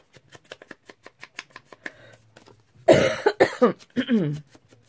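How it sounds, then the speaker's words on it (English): A light tapping rhythm gives way to a burst of harsh, dry coughing, several close coughs in a row, then a throat-clearing sound. "I know it's this dry cough."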